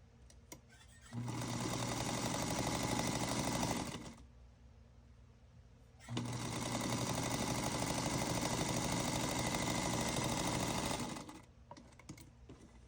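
Sewing machine stitching quilt blocks in two steady runs, about three and five seconds long, with a short quiet pause between; close, even whirring and rapid needle clatter, no talking.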